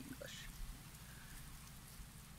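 Steady, even rain patters on a surface in the Kira Kira visual novel game, a soft continuous hiss with no talking over it.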